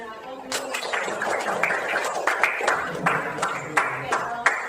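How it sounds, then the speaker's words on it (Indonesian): Students give a brief round of clapping for a classmate in a junior high school classroom, scattered claps building into a light applause under ongoing classroom chatter. "Berikan aplaus dulu."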